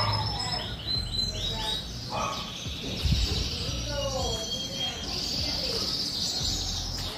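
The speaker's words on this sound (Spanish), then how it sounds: "Escuchen los pajaritos." Birds chirping outdoors, several bright twittering calls and short trills over a background insect buzz, moderately close, with a person talking at times.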